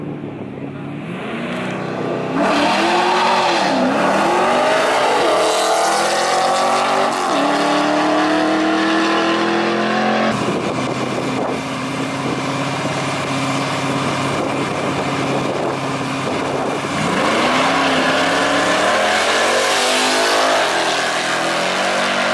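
A Dodge Challenger roars down the drag strip at Quaker City Speedway at test-and-tune night, a loud sustained engine howl rising and falling through gear changes, with pitch sweeps as it accelerates away.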